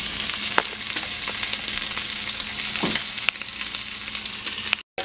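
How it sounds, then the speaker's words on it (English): Sausages browning in a pan for a seafood boil produce a steady, close sizzle with scattered pops and crackles, briefly cutting out near the end. "Sausages are browning."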